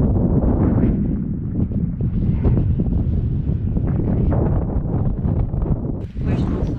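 Strong wind buffeting the microphone at a mountain pass in Liguria on a mountain bike trail, a continuous gusty roar with rumbling low-end bursts and a louder flurry near the end.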